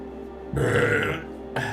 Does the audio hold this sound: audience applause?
no